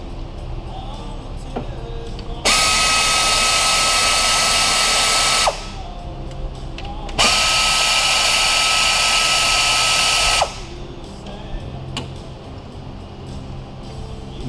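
A power tool whirs loudly in two sustained runs of about three seconds each, spinning off 8mm nuts on a 2011 Ford 4.0 V6 engine, with quieter workshop ambience and small clicks between bursts.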